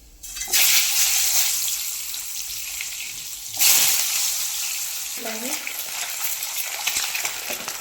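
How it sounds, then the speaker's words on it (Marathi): Eggs dropped into hot oil in a pan burst into loud sizzling that settles into a continuous frying hiss, with a second surge partway through and faint background sounds. "आता याच्यामध्ये आपल्याला हे अंडे भाजून घ्यायचे आहेत"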